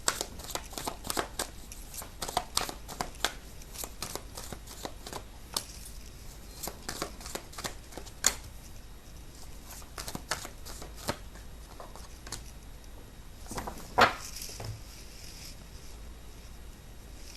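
Tarot cards being shuffled by hand, a long run of close, crisp riffling and slapping bursts in irregular rhythm, fairly quiet with no voice over it.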